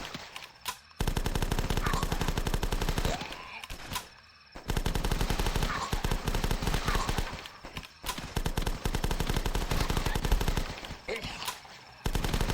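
Rapid gunfire from the zombie flash game The Last Stand bursts in long sustained volleys, loud and dense, broken by a few short pauses, with no speech over it.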